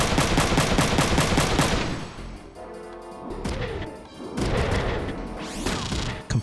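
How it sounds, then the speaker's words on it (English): Rapid gunfire barrage from mechs in Front Mission 3, a dense burst of repeated shots for about two seconds followed by heavier crashing impacts and blasts, loud and close with no talk. "Let's continue this barrage on this grenade launcher guy."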